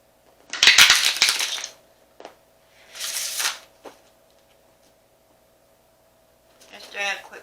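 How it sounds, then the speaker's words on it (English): Tarot cards being shuffled by hand in brief bursts: a quick riffle and rustle, then a second shorter shuffle a moment later, with soft card handling and a faint steady hum between. "Just doing a quick shuffle and then I'll turn the card over."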